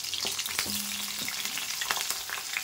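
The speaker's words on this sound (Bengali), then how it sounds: "তো এই তেলটাতে আমি দুবারে ভাজবো, বেশ ভালো করে ভাজতে হবে।" Vegetables frying in hot oil in a wok, a steady close crackling sizzle with occasional sharper pops and stirring scrapes, no voices.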